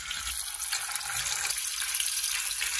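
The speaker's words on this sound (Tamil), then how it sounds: "எண்ணெய் சூடாயிருச்சுங்க, இப்போ நம்ம சிக்கனை சேர்த்துக்கலாம்." Chicken pieces fry in hot oil, giving a steady, close, bright crackling hiss that holds evenly for a few seconds with no voices over it.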